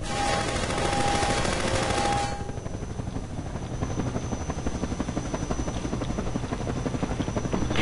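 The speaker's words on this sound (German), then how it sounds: "Was ein penetranter Heli." A combat helicopter in the video game Half-Life 2 hovers with steady loud rotor buzz, accompanied by bursts of rapid machine-gun fire early on.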